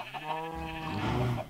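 Sheep in the ZooCraft video game bleat in a steady, wavering call that holds for over a second at moderate loudness, with no talking over it.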